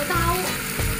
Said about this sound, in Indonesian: memanggang dengan panggangan anti lengket dengan kompor induksi